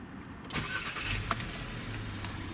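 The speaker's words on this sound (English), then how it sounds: "So we'll start the car up" A 2018 VW Caddy starting up, with a short crank at about half a second that settles into a steady low idle close by, a couple of faint clicks and rattles in the cabin over the running engine.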